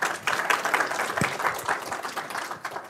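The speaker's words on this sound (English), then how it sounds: "Round of applause." A conference audience breaks into a short burst of applause for an SEO session speaker, with dense clapping close by at a moderate level.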